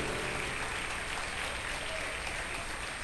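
Church congregation applauding, a steady wash of clapping that holds at an even level throughout, fairly faint and distant with no voices over it.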